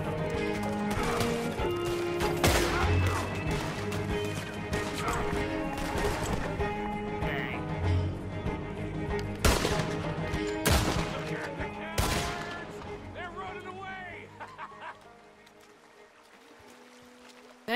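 Gunfire in the Red Dead Redemption 2 western game, with several sharp, loud shots at uneven intervals over a busy mix of horse hooves and whinnies, then fading quieter at the end.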